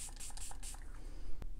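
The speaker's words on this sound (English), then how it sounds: "I've been spraying a little bit on my Beauty Blender." Serum spray misted in quick bursts onto a Beauty Blender makeup sponge, a run of close, soft hissing puffs followed by a single sharp tap.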